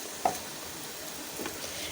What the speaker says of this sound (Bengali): মোটামুটি সবগুলো সবজি ভাজা হয়ে গেছে।